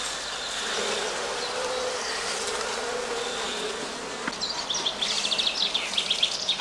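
Honey bees buzz steadily at a heather skep apiary during the cast swarming period, a dense continuous hum throughout, with a few louder close passes near the end.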